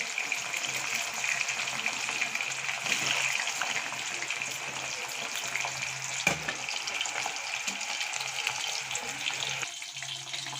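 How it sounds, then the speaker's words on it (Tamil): Ivy gourd (kovakkai) deep frying in a pan of hot oil, a steady dense bubbling sizzle that runs loud and continuous throughout, with a brief clatter near the middle. "இது நம்ம டீப் ஃப்ரை பண்ணணும் ஃப்ரெண்ட்ஸ்"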